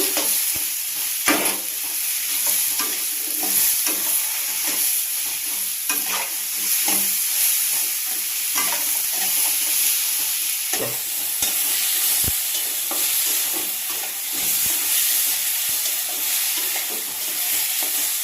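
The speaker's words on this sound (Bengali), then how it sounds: "লবণ দিয়ে দিচ্ছি, হালকা করে ভেজে নেব।" Vegetables, stalks, potato and onion with turmeric and salt, fry in a pan, giving a steady close sizzle broken by frequent scraping stirs of a spatula.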